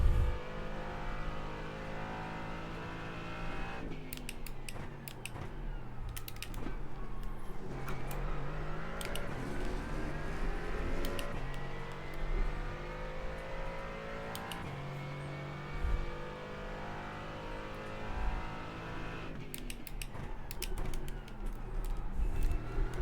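Race car engines in an IMSA Michelin Pilot Championship racing video game at Zolder rev high and shift through gears in long rising whines, with several cars layered together and steady throughout.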